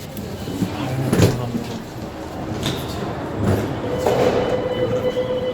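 Rumbling train noise with a few metallic clanks and a thin squeal near the end, giving the sense of a carriage rolling slowly through a station in South Korea.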